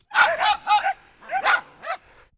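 Dogs at a backyard swimming pool give a series of short, close barks and yips in irregular bursts, loud and clear with little else around them.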